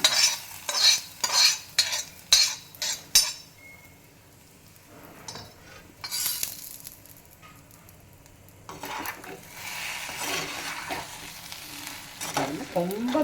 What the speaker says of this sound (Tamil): தாளிக்கலாம்.